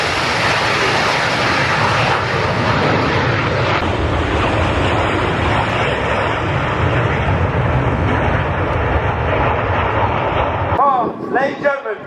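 Red Arrows RAF aerobatic jets of the 2024 team passing overhead at the Royal International Air Tattoo, a loud, continuous roar with wind buffeting that cuts off sharply near the end.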